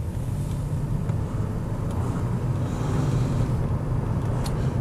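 A BMW 635CSi automatic idles, a steady low engine rumble close by with no change in pitch, alone without talk.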